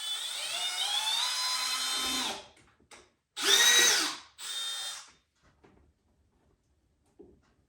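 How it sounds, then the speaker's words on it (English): A power drill drives a screw into a Native Watercraft Titan X 12.5 kayak, a sustained close whine that winds down, then two short bursts with pauses between. "Let me just drill it in here."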